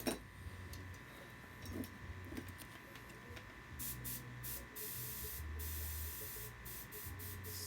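An airbrush hisses steadily at a workbench where fishing lures such as a bait fish popper are painted. The soft spray holds constant and close, with faint ticks and brief bursts of higher hiss layered over it.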